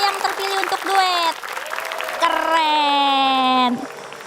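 An audience at an Indonesian festival stage show breaks into loud applause mixed with high cheers and whoops, rising and falling over a few seconds before fading.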